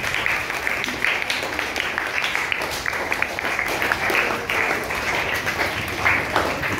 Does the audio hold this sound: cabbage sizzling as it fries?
no